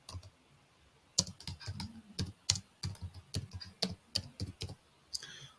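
Computer keyboard keys clatter in irregular bursts of sharp clicks with brief pauses between words, close and fairly quiet, no one speaking.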